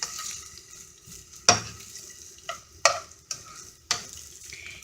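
Sausages frying in oil give a steady low sizzle, broken by several sharp clicks and pops of utensil or pan contact spaced a second or so apart.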